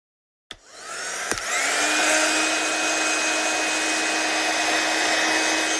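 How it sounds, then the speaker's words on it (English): A heat gun drying an embossed paper card switches on with a click and settles into a loud, steady blowing whir that holds to the end, with no voices. "So I'm just going to dry it with my gun first."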